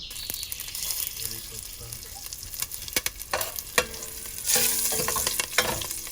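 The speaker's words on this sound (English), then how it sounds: "Add curry leaves now." Curry leaves hit hot oil in a pan for sambar, giving a steady crackling sizzle with stirring scrapes and a brief louder burst of spattering midway, close and continuous throughout.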